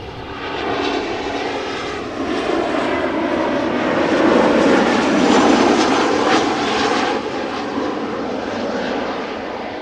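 Heavy airliners taxi at Amsterdam Schiphol toward the Polderbaan, their engines a steady loud roar that swells slightly in the middle and eases again.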